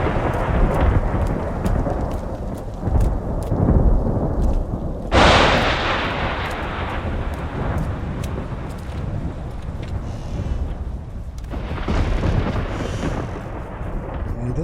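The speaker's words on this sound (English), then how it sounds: "the thunder is really loud compared to all of the other sounds" Thunder from the video game Observer: System Redux rumbles loud and heavy throughout, with a sharp crack midway followed by a long rolling boom and steady rain-like hiss beneath.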